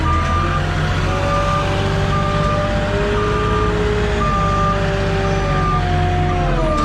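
A truck-mounted forklift delivering Sheetrock pulls out, its loud, steady engine drone running throughout under a string of repeating high reverse-alarm beeps.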